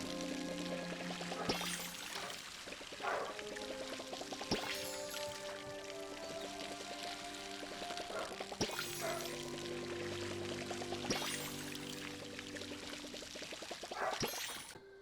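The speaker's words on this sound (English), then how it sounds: "Let's go ahead and take care of our plants as well. They're going to need some water." Water pours steadily while plants are watered in the video game Palia, a continuous splashing stream with soft chimes and game tones layered over it for the whole stretch.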